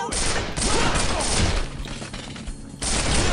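Loud, sustained gunfire erupts during a hostage standoff in the SWAT 4 police tactical shooter game, rattling in dense bursts with brief pauses and a heavy crash near the end.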